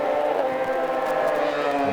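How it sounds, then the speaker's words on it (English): Race cars in a WA Sporting Car Club round at a circuit roar past nose to tail, with loud, sustained, buzzing engine tones that overlap. "Joel Wheeler in car 57, right up behind the tailpipes of car number 18 of Brad Russell, looking for a way through."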